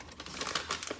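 A plastic bag of shredded cheddar cheese crinkles in quick, light, irregular rustles, faint and close, with no talking.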